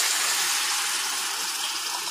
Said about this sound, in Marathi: मसाला छान होण्यासाठी मी 1 वाटी पाणी टाकते याच्यात